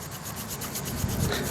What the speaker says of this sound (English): it still takes forever to cut through the tree